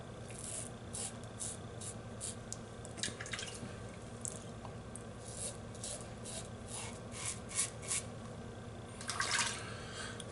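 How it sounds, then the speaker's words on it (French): Hands rinsed under water during a traditional wet shave, giving soft close splashes and drips with light rubbing over a steady background hiss, and a brighter burst of splashing near the end. "je rince nos mains"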